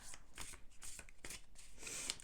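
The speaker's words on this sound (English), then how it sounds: "while I'm shuffling the decks" A deck of cards is shuffled up close in a steady run of riffling bursts, crisp and fairly quiet, with no voice over it.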